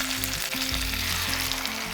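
Ground spice paste frying with tomato in a pan gives a steady, loud, close sizzle that runs without a break.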